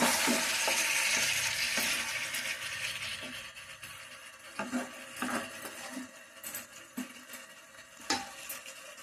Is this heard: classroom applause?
no